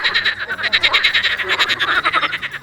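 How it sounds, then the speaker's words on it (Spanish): A dense chorus of frogs croaking loudly and continuously at night, many overlapping pulsing calls forming a steady rhythmic racket with no voices. "El croar de las ranas les perturba el sueño."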